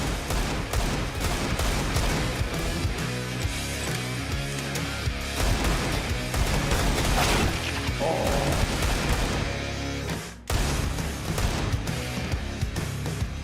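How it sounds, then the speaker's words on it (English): Continuous heavy gunfire rattles through a Counter-Strike: Global Offensive match in a professional tournament, with overlapping rifle bursts and booming impacts sustained throughout, loud and close, with one short dip near the end. "Where is everyone shooting from?"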